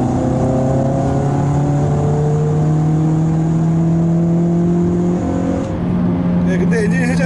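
A Hyundai Avante Coupe 2.0 engine revs smoothly and loudly, its tuned exhaust holding a steady rising drone before easing off near the end.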